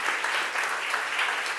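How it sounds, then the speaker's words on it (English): A crowd applauds steadily, a dense patter of many hands clapping at moderate volume throughout the short stretch. "First things first, applause, of course"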